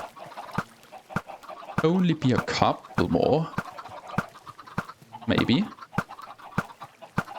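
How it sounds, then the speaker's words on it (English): Chickens cluck in a Minecraft farm, short clucks and squawks bunched in small bursts over sharp, regular clicks, while someone talks over them. "now I have a lot of chickens in here"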